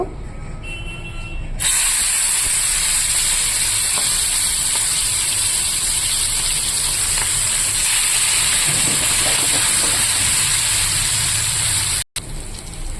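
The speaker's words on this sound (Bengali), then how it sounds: "এবার চিংড়ি মাছটা ভেজে নেব" Shrimp rubbed with salt and turmeric frying in oil in a pan, a loud, steady, hissing sizzle that starts abruptly and continues unbroken, with a brief cut shortly before the end.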